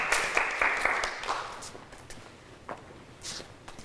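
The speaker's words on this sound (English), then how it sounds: "let's give her a round of applause" Audience applause at an Indigenous Awareness Weeks opening ceremony greets a keynote speaker, a burst of clapping that is loudest at first and thins into scattered claps and faint footsteps.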